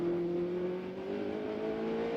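An Audi prototype race car in the 2002 American Le Mans Series round at RFK Stadium drones steadily under power, its engine tone holding and rising slightly while the back end slides, heard fairly faintly.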